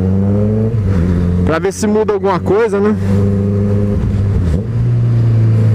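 A motorcycle engine idles steadily at close range while it burns through the fuel left in its tank. Someone talks over the hum of the engine.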